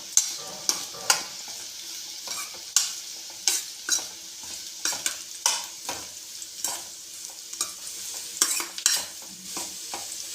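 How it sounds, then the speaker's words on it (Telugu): Fried bitter gourd pieces stirred in hot oil, with repeated sharp scraping strokes of a spoon against the pan every second or so over a continuous sizzle, close and clear, no talking. "నూనెలో బాగా పట్టేంత వరకు కాకరకాయలు కలుపుకోవాలి"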